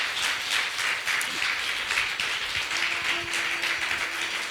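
An audience at a spiritual talk on food as medicine at a meditation festival claps in a steady, moderate wave of applause, several pairs of hands close by.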